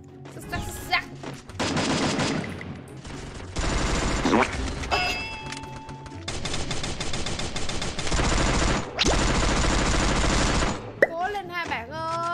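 Rapid bursts of M4A1 rifle fire in the Free Fire mobile shooter, loud and repeated over a busy game soundtrack with effects, pausing briefly between volleys.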